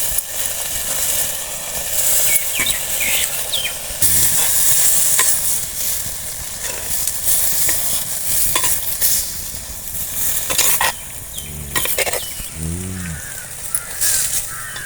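Manathakkali (black nightshade) greens sauté with pepper and mashed tomato in a pan, a steady sizzle broken by repeated scraping stirs of a spoon, close and fairly loud, with no talking.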